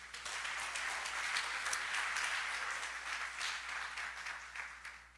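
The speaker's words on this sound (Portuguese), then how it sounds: "Aplaude a Jesus" Congregation applauding together in a church service, a steady broad wash of clapping that holds evenly for several seconds with no voices standing out.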